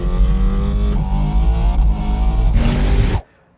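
Ken Block's all-wheel-drive 1965 Ford Mustang Gymkhana car revs hard and close, its engine note rising and falling in a loud continuous snarl before cutting off abruptly near the end.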